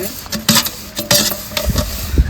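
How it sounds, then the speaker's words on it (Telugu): Clattering dishes and pans being washed, with irregular clinks and scrapes and a brief splash of water, close by and fairly loud. "నాయనమ్మ గిన్నెలు కడుగుతుంది"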